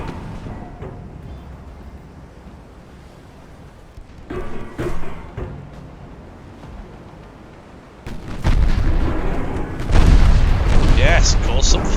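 Naval gunfire in the video game Ultimate Admiral Dreadnoughts: deep booming salvos and rumbling blasts, growing louder and denser toward the end, with a voice talking over parts of it.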